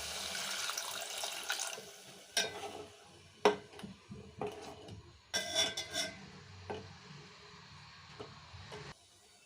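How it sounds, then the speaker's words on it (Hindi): Water is poured into a pan of kofta masala that has been fried in ghee until the oil separates, giving a soft, faint splashing and trickling with scattered clinks and taps of a utensil against the pan. "अब इसमें पानी डालते हैं।"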